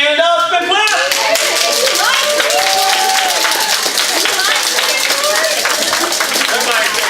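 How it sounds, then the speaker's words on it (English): A crowd at a company training event claps steadily and loudly in dense, continuous applause, with scattered voices and cheers mixed in throughout. "stand up and clap"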